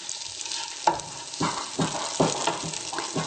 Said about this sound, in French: Je vais surveiller le tofu. Il est en train de dorer